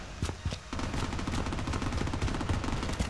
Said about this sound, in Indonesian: Ada suara tembak di sana.